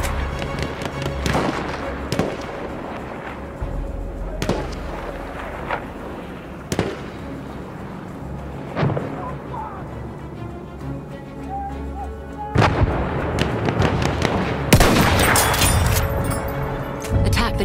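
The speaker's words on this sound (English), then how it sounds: "Wait for the enemy artillery barrage to stop from firing." Artillery barrage in the Battlefield 1 video game, with repeated sharp booming blasts and crashes scattered over a steady battle din, growing denser and louder toward the end, with faint voices underneath.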